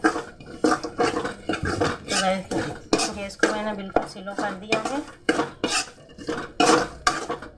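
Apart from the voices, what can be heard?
stirring cashews in ghee in a pan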